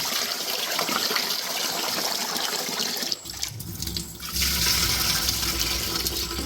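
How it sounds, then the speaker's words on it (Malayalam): Water pours and churns steadily as rice for Kerala appam is washed, with a short pause midway before the splashing resumes louder. "വെള്ളം തെളിഞ്ഞു വരുന്നിടം വരെ നമ്മൾ അരി കഴുകുക"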